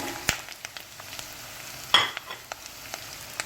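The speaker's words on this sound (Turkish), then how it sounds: "Yumuşamış olan soğanlarımızın içine patates ilave ederek" Cut potatoes stirred into softened onions in a pot for a Turkish pea and potato soup, giving a low sizzle with a few sharp scraping clicks and one louder clatter from the stirring, close and with no talk.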